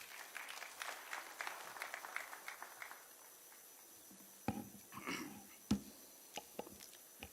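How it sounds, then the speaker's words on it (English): Scattered clapping from an audience at a standards launch event in Kenya, thin and uneven, fading then returning in a few sharp claps. "A round of applause,"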